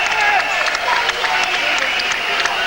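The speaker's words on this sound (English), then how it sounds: "The cheers from the crowd there" Boxing crowd cheering and applauding after a bout, a dense, loud roar of voices and clapping throughout, with a commentator talking over it.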